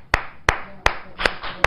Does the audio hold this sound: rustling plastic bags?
no